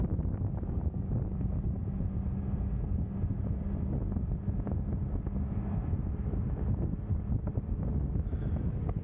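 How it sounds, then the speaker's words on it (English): Strong wind buffets the microphone while cycling across the Tay Road Bridge, a constant loud low rumble roaring steadily throughout with no speech. "as you can probably hear, you're a lot more exposed to the wind on this side"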